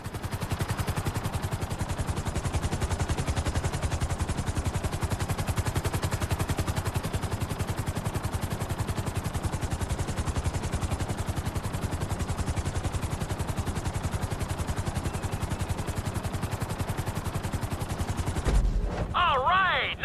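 A helicopter in Grand Theft Auto V thrums with a dense, steady rotor chop throughout as it sets down on a helipad, loud and close, before cutting off abruptly near the end.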